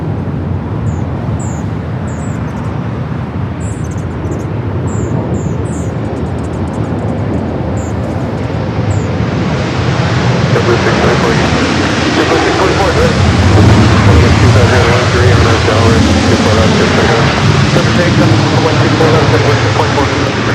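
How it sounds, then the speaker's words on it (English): Heavy jets taking off on the north runways at LAX: a broad, roaring engine rumble builds and swells partway through and stays loud to the end, with a voice talking over it. "We got 3 heavies up next here for takeoffs here on the north."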